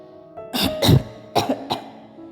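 A few short coughs in quick succession, close by, with a brief throat-clearing quality and a pause between two pairs.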